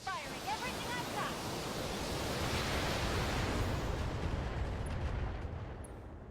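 In the mech combat video game Battletech, a mech fires all of its weapons at once, producing a dense, loud, sustained roar of blasts that fills the whole clip before fading slightly at the end.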